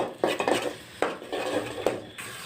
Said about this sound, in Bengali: মরিচের গুঁড়া আর পরিমাণ মতো লবণ এটা এখন আমি ভালো করে কষিয়ে নেব